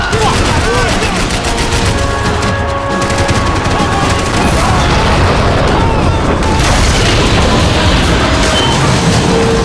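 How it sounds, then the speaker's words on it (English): Dense, loud gunfire from a Max Payne 3 firefight, with continuous bursts and booms and bullets whizzing close by, and a voice shouting over the shooting. "I can't concentrate with bullets whizzing past my head!"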